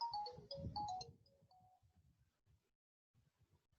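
A telephone rings with a short melodic ringtone, played loud and close in the first second and a half before it cuts off. Faint low murmurs follow afterward.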